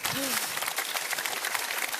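Audience at a cabaret game-show performance giving a contestant a steady burst of applause, with a brief voice at the start.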